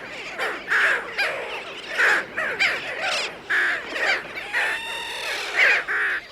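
Sooty terns call in a breeding colony set in island woodland on Arid in the Seychelles, a chorus of harsh, nasal, repeated calls from several birds, loud and close, in irregular bursts.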